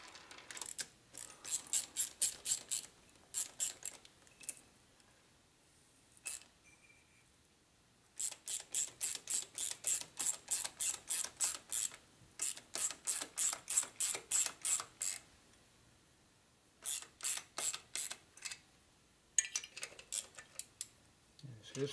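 A ratchet socket wrench clicks in quick repeated bursts while turning fasteners on a 1980 Harley-Davidson 92ci shovelhead stroker engine top end during a rebuild, with short pauses between rapid strokes, close and alone.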